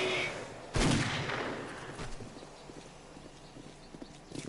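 A sharp gunshot from the zombie survival game 7 Days To Die cracks out loud, followed by a fading rumble and scattered faint clicks and thumps.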